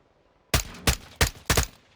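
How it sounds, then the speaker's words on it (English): Four sharp gunshots ring out in Warzone 2, spaced roughly a third of a second apart, loud and close with short decaying tails, and no talking over them. "I hear gunshots."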